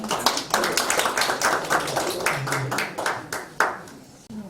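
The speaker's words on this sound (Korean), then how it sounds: "박수로 한번 환영하시겠습니다." An audience at a world missions forum claps to welcome a missionary pastor from Mexico, giving a steady burst of hand claps with a few louder slaps, mostly alone with a faint voice underneath.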